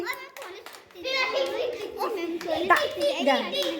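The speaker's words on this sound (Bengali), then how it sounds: "হাততালি।" Young students in a classroom preposition game clap their hands in scattered, uneven bursts, close and lively, mixed with children's voices chattering throughout.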